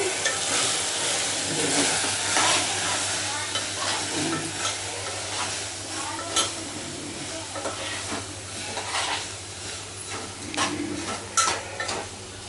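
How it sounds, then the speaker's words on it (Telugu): Chili powder being stirred into a frying mixture in a pan, with a steady sizzle beneath repeated scraping strokes of a spoon against the pan, close and moderately loud throughout. "కారం వేసుకొని కలుపుకోవాలి"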